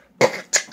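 Three quick, close coughs in a row, sharp and fairly loud, each ending in a short rasp.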